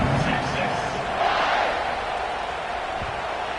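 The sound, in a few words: football stadium crowd cheering after a scoring drive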